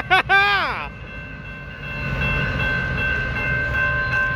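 San Joaquin Valley Railroad locomotives 2164 and 2407 rolling past Mono Street in Fresno, California, opening with a loud, close horn blast that cuts off, then a steady rumble and whine of the passing engines, with a person speaking over it.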